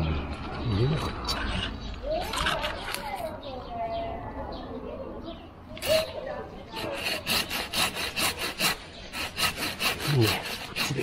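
A hand saw cuts through a plum tree branch during summer pruning, with rough rasping strokes that come faster and more rhythmically toward the end. The sawing is close, and a person talks over parts of it.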